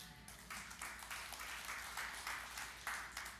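A church congregation applauding at a sermon, heard as a soft, steady patter of many hands clapping at a distance, fairly faint, with no talking over it.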